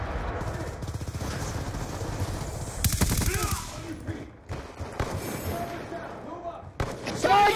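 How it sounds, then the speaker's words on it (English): A sentry gun fires in a video game in rapid automatic bursts mixed with other shots and thuds, while a voice talks over the action. "Sentry gun ready for deployment."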